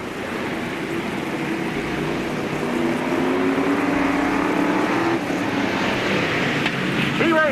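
Bomber Division stock cars racing at Peoria Speedway, a loud, continuous roar of engines with rising and falling pitch sweeps as cars pass.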